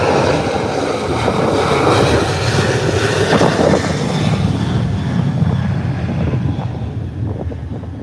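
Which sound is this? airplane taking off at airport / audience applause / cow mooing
airplane taking off at airport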